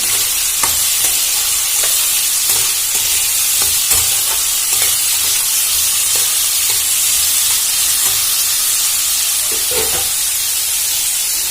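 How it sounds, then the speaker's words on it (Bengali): Steady frying sizzle with a broad hiss, broken by regular scraping knocks of a spatula stirring the pan, close and continuous with no talk. "ভালো করে নাড়াচাড়া করে আলুগুলো ভেজে নেব।"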